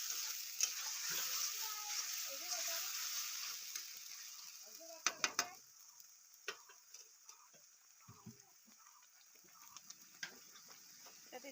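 Panch phoron and other spices for a paneer gravy fry quietly in a pan, giving a soft, faint sizzle with scattered ticks and a brief cluster of sharp stirring clicks.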